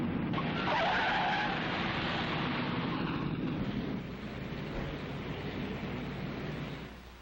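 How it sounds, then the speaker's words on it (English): A car braking suddenly, its tires skidding and squealing loudly on the road, alone with no talk, then fading slightly toward the end. "When this car stopped suddenly, the driver behind was caught off guard and swerved into your path."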